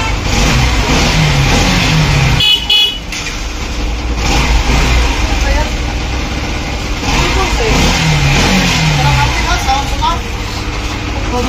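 A Bajaj CT motorcycle engine runs steadily after repair, loud and close, with continuous mid-pitched chugging and slight rises in revs throughout.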